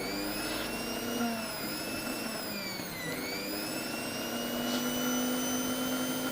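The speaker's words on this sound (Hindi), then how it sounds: "देख रहे हैं दोस्तों मोटर बिल्कुल फ्री घूम रहा है।" A Philips mixer grinder motor spins freely, whirring steadily with a high, tonal whine that dips briefly in pitch midway, then runs on evenly, close by.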